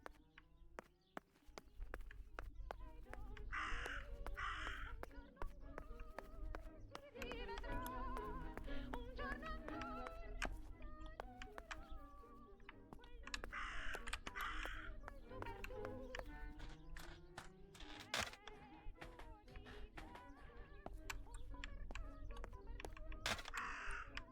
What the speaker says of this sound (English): Where's this Raven? Upstairs?